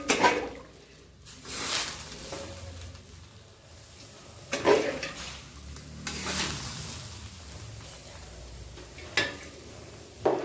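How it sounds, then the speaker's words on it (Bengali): Rice being tipped into a pot of hot water on the stove, with scraping stir strokes and soft sizzling bursts that rise and fade several times, close and fairly quiet, no voices. "এই গরম জলের মধ্যে এখন আমি এটা দিয়ে দিব"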